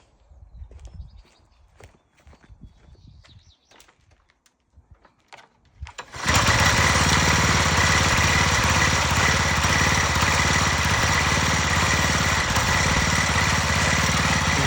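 A newly fitted engine in a Volkswagen Golf is started after a few seconds of quiet shuffling and clunks, then runs at a steady, loud, close idle with a dense even hum and no talking for the rest.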